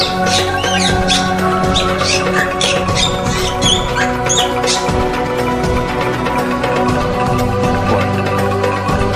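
Bali myna, the white Jalak Bali starling, gives a run of sharp, squawky calls in quick bursts over a dense, continuous background, loud and close, without speech.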